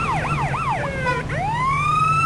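A police car siren in the Arma 3 game sweeps up and down in a rapid wail, then settles into steadier rising tones, loud and close over a constant low engine hum.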